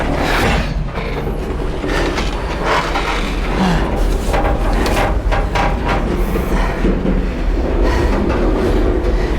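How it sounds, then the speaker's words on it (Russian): A freight train in Mexico starts to move, heard loud and close from on board. Heavy rumbling and clanking wagons carry steady clickety-clack beats and faint wheel squeals throughout. "поезд уже начинает двигаться"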